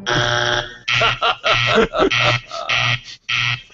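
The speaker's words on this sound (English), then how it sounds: "Those buzzers you heard at the end were all zeros." A series of loud, harsh electronic game show wrong-answer buzzes, one long blast followed by several shorter bursts in quick succession, with no talking.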